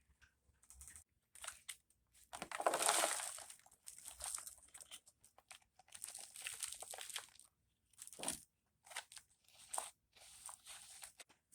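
Soil is put into a cut-open plastic soda bottle, making close, intermittent bursts of crinkly scraping and gritty crunching with short quiet gaps between scoops.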